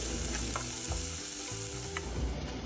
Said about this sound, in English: Fry the onions until they turn translucent.